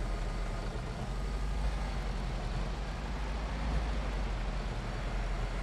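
A steady low engine rumble of a car driving in the horror video game Mundaun, continuous and fairly loud throughout with no pauses.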